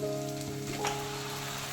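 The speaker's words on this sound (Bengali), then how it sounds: "এই যে বেটে রাখা মশলা দিয়ে দিচ্ছি" Ground spice paste hits onion and garlic frying in a pan, giving a steady, soft sizzling hiss that stays faint and continuous throughout.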